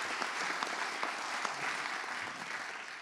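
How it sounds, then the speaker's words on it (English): Steady audience applause at a panel event on policing, a continuous wash of many hands clapping at a moderate level, with no speech over it. "One more round of applause for Ron Davis."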